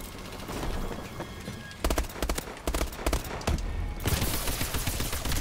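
Automatic gunfire in a Call of Duty Advanced Warfare multiplayer match, with rapid close bursts of shots rattling over a busy, noisy battlefield background.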